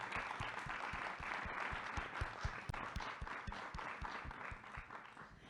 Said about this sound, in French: je pense qu'on peut déjà applaudir nos intervenants